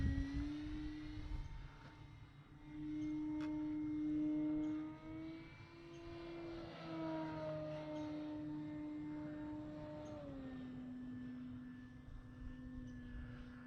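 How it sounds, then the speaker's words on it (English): A Carbon Z Cub SS RC airplane flies overhead, its propeller and electric motor droning in a steady tone that rises and falls in pitch as it passes and banks, moderately distant and alone. "this plane here is an absolute joy to fly"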